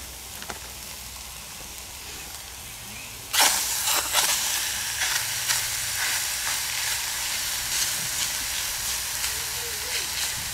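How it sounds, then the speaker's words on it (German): Onions sizzle and crackle on a grill over hot coals, a sudden loud hiss starting a few seconds in and continuing steadily with scattered pops. "Und gleich mal ein paar Zwiebeln vorbrutzeln."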